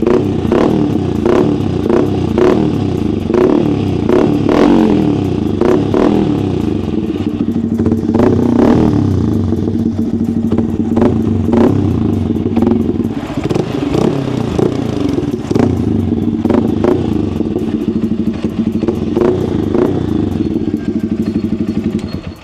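Yamaha R15M WGP Edition motorcycle engine warming up after an air filter change, a loud close idle with a steady putter and repeated blips of revving throughout.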